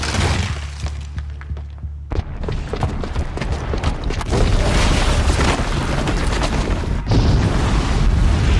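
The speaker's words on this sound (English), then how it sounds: "the booby trap on the bomb downstairs is gonna get set off" Booby-trapped bomb exploding in Horizon Zero Dawn: a short stretch of scattered clatter, then a sudden loud blast that rolls on as heavy rumble and crashing, shattering debris to the end.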